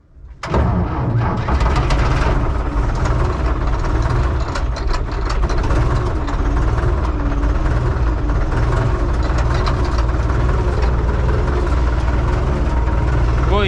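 A small tractor engine starting and then running at idle, hitched to a mower, a loud chugging rumble kicking in after a brief moment and holding steady and close throughout.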